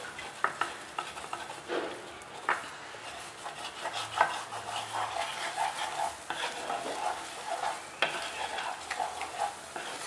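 Scrambled eggs with onion for a sandwich frying on high heat while a spatula scrapes and stirs the pan constantly, producing a busy crackling sizzle with frequent close metallic scraping and clinks and no talking.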